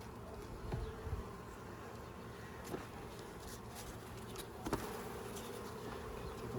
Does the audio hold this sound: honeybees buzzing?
yes